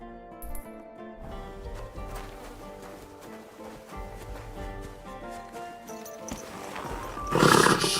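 Horse in the medieval game Kingdom Come: Deliverance II, neighing over a steady layer of game music, with a louder burst of sound near the end.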